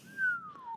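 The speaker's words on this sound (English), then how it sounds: "That was a whistle, y'all, because I was surprised." A person whistles in surprise, one clear, fairly soft tone that slides slowly downward for under a second, without speech over it.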